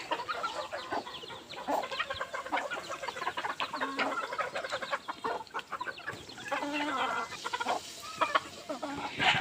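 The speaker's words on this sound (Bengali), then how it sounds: "এই যে মুরগিগুলা নতুন 4টা কিনা হয়েছে" Four newly bought chickens in a household yard cluck and murmur close by, with irregular clucks bunched together and a few louder calls near the end under a quiet outdoor background.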